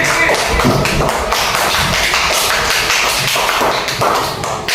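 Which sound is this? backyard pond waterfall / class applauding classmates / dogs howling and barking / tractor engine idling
class applauding classmates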